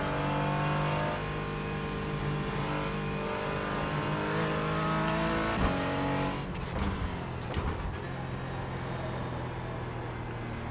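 Porsche 718 Cayman GT4 in the iRacing simulator, its engine revving and droning steadily through gear changes, loud and continuous with a brief lift and shift midway.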